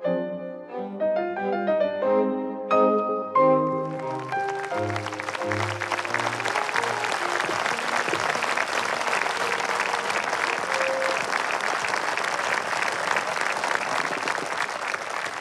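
Orchestral music gives way to an audience applauding orchestra musicians as they walk in, sustained clapping from a large crowd that takes over and continues steadily, with a few instrument notes still sounding beneath it.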